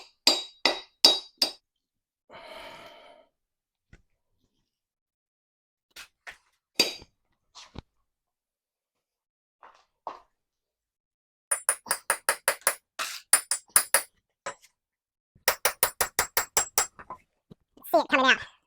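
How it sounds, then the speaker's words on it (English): Sharp metallic strikes ring out in bursts as a bolt is hammered out of a microwave transformer, single blows at first, then rapid runs of hammering on metal, with pauses and a few quieter knocks between. "I'm going to try and use the end of this and just hammer from this side"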